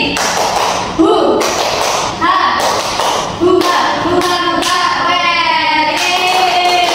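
Primary pupils in a classroom perform a rhythmic spirit clap together, a patterned sequence of sharp group claps and thumps with shouted voices mixed in over roughly seven seconds.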